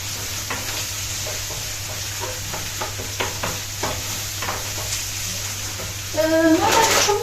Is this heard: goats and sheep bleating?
no